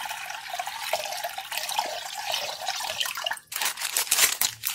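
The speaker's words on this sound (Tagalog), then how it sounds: "Magpahid lang dito ng konting tubig sa ating tapalan o sangkalan." Room temperature water trickles and splashes onto a cutting board while a salad roll with fruit and crab is being made, a continuous close wet patter that pauses briefly and then resumes more strongly.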